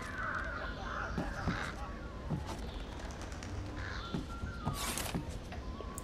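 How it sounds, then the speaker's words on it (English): Crows caw repeatedly in the stealth video game Thief, several harsh calls rising over a constant ambient background, some close and some a little farther off. "Sudden movement near birds would disturb them, alert anyone nearby."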